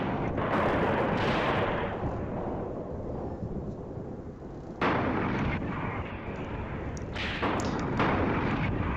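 Tank guns firing in the war game Graviteam Tactics, heavy booming blasts with rumbling decay, a sharp loud shot near the middle and more bursts toward the end, no talk.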